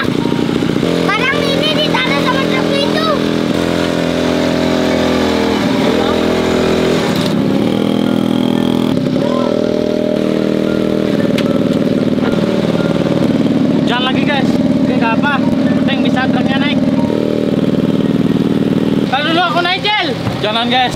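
A dirt bike engine revs and labors steadily while towing a stalled truck up a steep incline, loud and continuous, with people talking over it.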